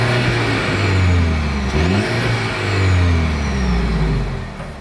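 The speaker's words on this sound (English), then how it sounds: "As always, here is that exhaust clip." A 2026 Mercedes-Benz GLE 350 SUV's exhaust revs up twice in quick succession, the engine note climbing and falling back to a steady idle between blips, close and loud.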